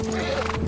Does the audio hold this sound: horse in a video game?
yes